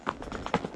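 Horse hooves clip-clopping in a few quick, uneven steps, close and moderately loud with no talk over them.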